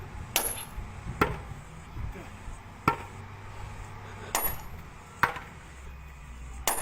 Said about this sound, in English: you've got a sledgehammer on a 200 million ton boulder